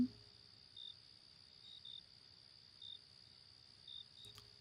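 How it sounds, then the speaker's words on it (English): Crickets chirping in a scary video game, a faint thin steady trill with brief brighter chirps about once a second, quiet and alone over a low hum, with a soft click near the end. "I still hear crickets."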